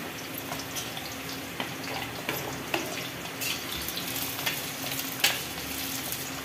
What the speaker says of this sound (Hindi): परवल को भी इसमें फ्राई कर दे रहे हैं